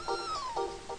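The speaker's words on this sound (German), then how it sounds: "Shortex, deine Katze rennt weg" A cat meows in the video game Chrono Trigger, a thin wavering electronic mew with short repeated pulses, fairly quiet and on its own.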